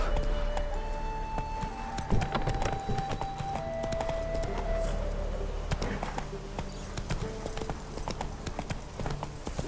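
Roach, the horse in The Witcher 3, gallops with steady, rapid hoofbeats throughout, close and prominent over a layered game soundtrack with tonal music lines.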